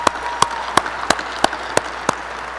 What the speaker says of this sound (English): So can we give that a round of applause?